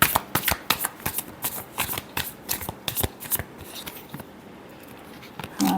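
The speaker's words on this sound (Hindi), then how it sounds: "Last shuffle." Tarot cards being shuffled by hand, a rapid run of crisp, close riffling flicks in an irregular rhythm that thins out toward the end.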